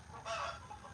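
Several backyard chickens cluck and squawk together in a short burst, moderately close, rising briefly in the middle and then settling back into lower chatter, with no talking over them.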